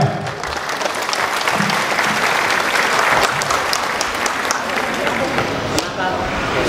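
Crowd at a Batak community association declaration and inauguration ceremony applauds loudly and continuously, a thick wash of clapping with a few sharper individual claps and voices mixed underneath.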